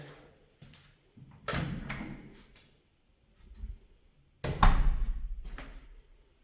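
A solid wood door without a threshold, white with black glass, swings open and shut, giving several soft thuds and a firm latching thump, close by with a brief rumble after.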